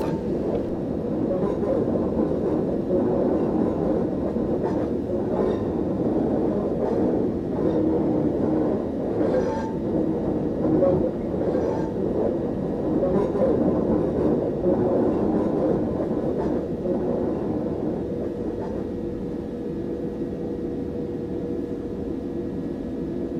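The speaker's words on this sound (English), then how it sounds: "Now we'll allow the train to coast until I'm able to accelerate further." Train rumble in Train Simulator 2015 on the East Croydon to London Victoria route, a steady low drone of a coasting train that holds near and even throughout with faint mechanical clatter.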